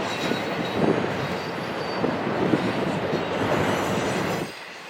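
A CSX freight train rumbles past close by at a depot, with continuous rolling rail noise and faint wheel squeal, fairly loud, before it cuts off abruptly at the end.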